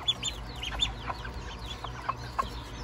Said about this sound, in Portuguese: Tem uns pintinhos aqui na gaiola.